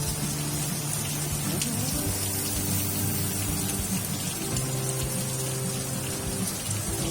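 Heavy rain pouring during Typhoon Hanna in the Philippines, a dense constant hiss of falling water with low background hum and rumble, steady and close, no voices standing out.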